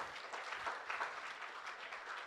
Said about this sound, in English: Another round of applause for Julio.